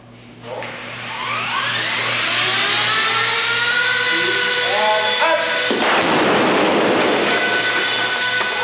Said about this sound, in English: The explosion is impressive